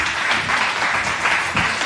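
A studio audience at a television talk show breaks into dense, steady applause, many hands clapping at once for a short burst.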